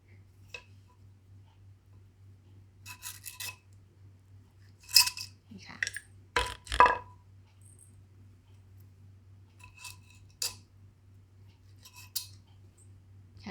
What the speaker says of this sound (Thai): ขั้นตอนต่อไปเราก็ใส่พริกลงไปค่ะอันนี้ค่ะ ป้าจะตัดครึ่งนะคะครึ่งเม็ด